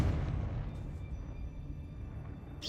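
Confringo fire-blasting spells cast in the Hogwarts Legacy video game, heard as a continuous, heavy, rumbling barrage of booms with a dense low roar and no clear gaps.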